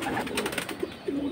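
A high-flyer pigeon coos up close in a short burst of soft throaty murmurs, with a couple of rising coo notes standing out near the end.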